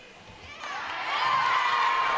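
Crowd noise at a ninja obstacle competition swells from quiet to a loud sustained cheer with shouting, heard under a commentator's voice.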